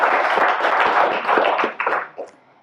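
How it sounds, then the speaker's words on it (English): Audience applause at an industry panel on trade fairs and festivals, a dense wash of clapping from a crowd that holds steady, then thins out into a few scattered claps and fades away. "So big applause for Brahim."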